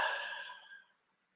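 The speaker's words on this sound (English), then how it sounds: "5 deep breaths." A single deep exhale during a guided nervous-system regulation breathing exercise, a close, breathy sigh-like rush that fades out over about a second.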